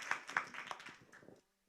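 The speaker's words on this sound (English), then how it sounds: "Hey, we need to applaud after everybody." A small audience claps together after a table discussion report, a burst of handclaps lasting just over a second before ending in silence.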